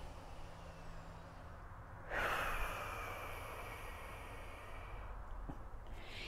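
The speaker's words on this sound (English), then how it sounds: "Take a deep breath." A single deep breath is drawn in sharply with a rushing, airy sound, held steady for a few seconds, then a softer exhale follows, heard alone in a quiet room.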